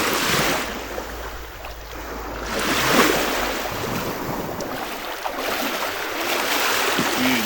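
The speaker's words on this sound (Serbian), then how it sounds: "sada silazimo u more, to jest ulazimo u more" Sea waves wash steadily onto a beach on Thasos, a broad continuous surf roar with wind buffeting the microphone and a swell in loudness around the middle.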